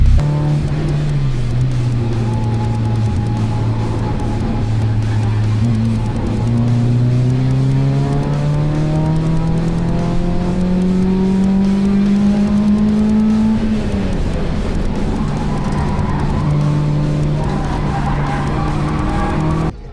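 An Alfa Romeo race car engine drones continuously on a circuit, pitch rising through the gears and dropping at shifts, heard from inside the car over a steady roar.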